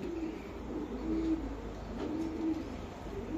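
Racing pigeons coo softly nearby in a few low, droning calls at an even pace over a faint, steady background hum.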